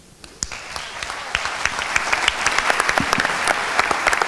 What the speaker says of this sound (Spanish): Fuerte el aplauso para los compañeros de la Red Nacional, Miriam Pérez y Ángel Rodríguez